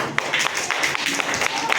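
Applause for a group of children at a school activity session, a mix of scattered claps at close range under light background chatter, uneven and not very loud.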